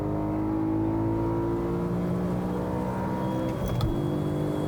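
A 2008 BMW M3 engine winds up to redline in second gear, a strong rising mechanical whine and roar with steady harmonics, then a brief shift disturbance near the end, close and loud.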